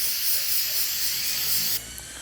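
Stoner's Tarminator cleaner sprays onto a towel in one sustained, close hissing burst that cuts off abruptly, leaving a faint quiet background.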